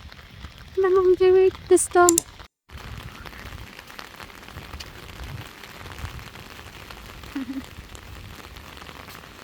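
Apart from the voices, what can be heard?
rain falling outdoors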